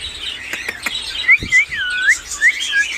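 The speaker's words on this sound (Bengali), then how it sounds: "কোকাটেল পাখি আছে রানিং ডিম বাচ্চা করা সেই পাখিগুলো দেখাচ্ছি" Cockatiels at a bird shop give a run of bright, whistled chirps and rising tweets, several short calls close by with a few soft clicks and rustles in between, no voices.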